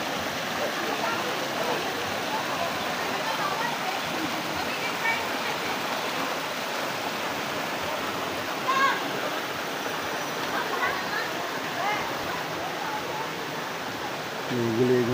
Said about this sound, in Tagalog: Dito kami pumunta mismo sa waterfalls.